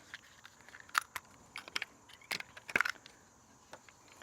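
Plastic warning tag being snipped off a Champion dual fuel 4500 watt inverter generator, a few sharp crisp clicks and snips close by in a quiet room.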